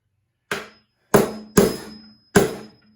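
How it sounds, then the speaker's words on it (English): Four sharp hammer blows on a nail set, driving a nail flush into a wooden tote box; crisp, close, evenly spaced strikes with short ringing decay and silence between. "Take our nail set. Set that nail right down there."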